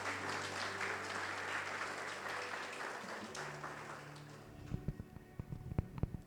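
A church congregation applauds, a dense wash of clapping that fades out, then scattered individual claps trail off near the end.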